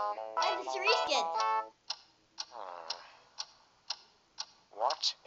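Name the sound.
mysterious clock ticking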